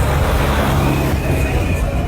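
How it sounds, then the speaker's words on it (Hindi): A farmers' convoy of tractors rolls past on a road, a loud, continuous rumble of engines and traffic noise with a faint murmur of people in the background. "देख लीजिए, लगातार ट्रैक्टर आ रहे हैं।"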